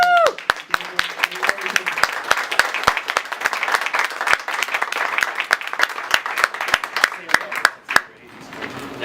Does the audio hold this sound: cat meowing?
no